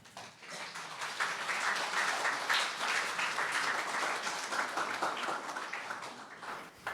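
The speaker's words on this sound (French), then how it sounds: "ce sont des applaudissements de remerciement de nous avoir partagé ton témoignage" Applause in a church gathering thanking a woman for sharing her testimony, a dense steady wash of many hands clapping throughout, fairly close and even, fading slightly at the end.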